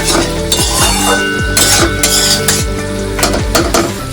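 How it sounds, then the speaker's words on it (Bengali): A spatula scrapes and clinks against a pan while stirring potato and pointed gourd curry, the metallic knocks coming in a steady, repeated rhythm over a constant tonal background. "একটু ভালো করে নেড়ে চেড়ে দেখে নেব যে ভালো করে কষা হয়েছে কিনা"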